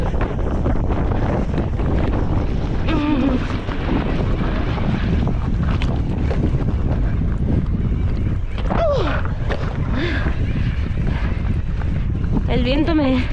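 Wind buffets the microphone on a mountain bike ride at a downhill bike park. A loud, continuous low roar runs the whole way through, with a few brief snatches of a voice breaking over it.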